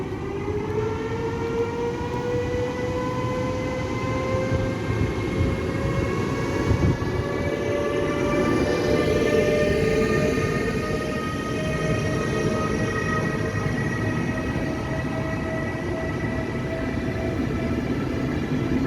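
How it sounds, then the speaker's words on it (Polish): A Baltic Express train pulls out of Bydgoszcz Główna station. The traction motors whine in rising, layered tones as it gathers speed over a steady close rumble of wheels and carriage noise, with no talk. "semafor wyjazdowy ze stacji Bydgoszcz Główna podany i może ruszać"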